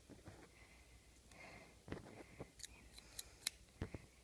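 A shark jaw being cut off with scissors, heard as soft close snips and a few sharper clicks, some crunching cuts and handling noise, quiet and with no voices over it.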